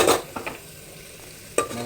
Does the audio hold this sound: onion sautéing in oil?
yes